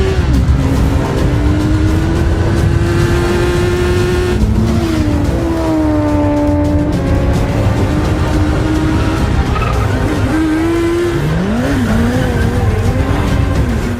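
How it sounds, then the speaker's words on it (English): A 2025 Kawasaki ZX-6R with an inline-four engine screams through a run of gears, the pitch climbing, dropping at each shift and rising again in a loud, sustained ride-by wail. "there's a reason why they use an inline 4 engine, because it's a classic sport bike sound"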